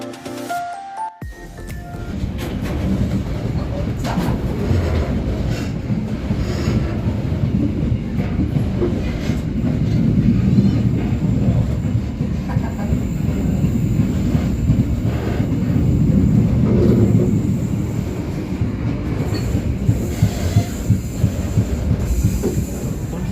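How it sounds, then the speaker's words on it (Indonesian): A local economy train on the Surabaya–Cepu line rolls into an Indonesian station, with a loud, continuous rumble and clatter of wheels on rails and occasional squeals, and no voices. "kereta api ekonomi lokal Cepu sesaat lagi akan tiba di stasiun Bowerno"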